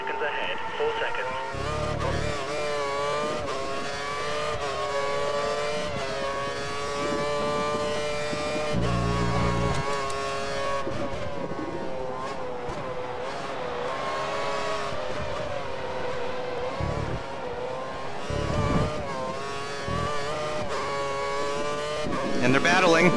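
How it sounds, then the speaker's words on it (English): Formula 1 cars in the F1 2013 racing game, a Lotus at the Chinese Grand Prix, hold a high, steady engine whine at full revs, rising and falling through gear changes, with voices talking over it. "We think the car behind is running on full revs."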